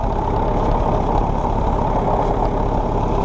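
A vintage tractor engine runs steadily with a dense, rumbling low drone, loud and close, continuous throughout with no talking.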